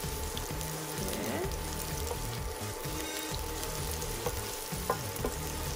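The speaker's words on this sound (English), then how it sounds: "So we're going to saute the onion." Onion sautéing in a pan while preparing cauliflower jambalaya with scallops, a steady close sizzle with scattered stirring scrapes throughout, no talking.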